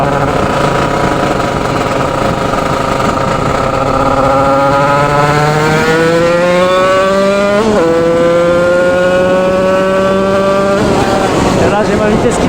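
A Yamaha DT 86 motorbike fitted with a big-bore cylinder kit roars loudly while riding, its two-stroke engine note climbing steadily in pitch through the gears and dipping briefly at each shift.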